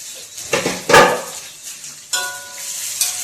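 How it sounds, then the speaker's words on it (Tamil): Small onions go into a hot iron pan and get stirred, with a few scraping clinks of a utensil against the metal and a light sizzle between them. "இப்போ இதுல சின்ன வெங்காயம் ஆட் பண்ணிக்கலாம்."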